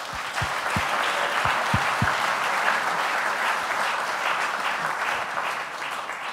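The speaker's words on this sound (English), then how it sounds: "Please give them a round of applause." Audience applause at the 2018 Tewaaraton Award ceremony honoring past honorees, a steady, dense wash of clapping that fills the room throughout, with a few low thumps early on.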